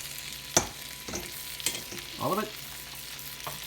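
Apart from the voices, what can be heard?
chicken sizzling while frying in a pan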